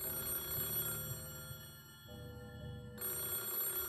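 An old rotary telephone rings in rapid metallic bell trills, a sustained burst that pauses briefly and then starts again, fairly faint with no voices.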